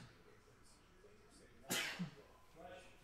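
A single sharp sneeze from a man, sudden and loud against a quiet room, followed by a brief breathy catch and soft rustling.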